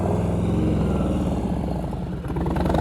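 Low, steady chug of a motorcycle engine at slow riding speed during a slow-speed skills practice, a close, even putter with a rhythmic pulsing that dips briefly and then picks back up.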